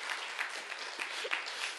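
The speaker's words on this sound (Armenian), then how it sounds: "Ինչի համար եք ծափ տալիս" A church congregation claps together during a sermon on Nehemiah, a steady, dense wash of many hands that holds at an even level for about two seconds with no voices on top.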